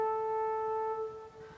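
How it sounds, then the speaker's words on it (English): A very high tuba line from an ensemble arrangement plays one long sustained note, steady and clear for over a second, then thins slightly near the end, with no talking. "my favorite addition of this part is definitely the extremely high tuba part, which sounds like this."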